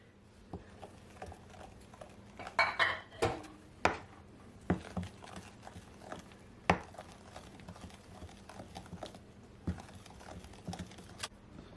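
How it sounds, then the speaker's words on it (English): Banana bread batter with flour being mixed by hand in a bowl, irregular clinks and taps of a utensil against the bowl with soft scraping, close and fairly quiet, busier near the start. "you want to mix it all in so everything will all combine"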